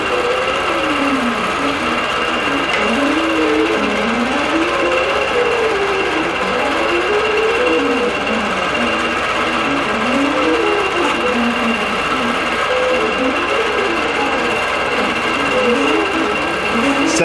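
Computerized IntelliQuilter quilting machine stitching a Dresden checkerboard contour design, a steady mechanical whir with a rhythmic wavering pitch as the head travels, continuous and close with no talk.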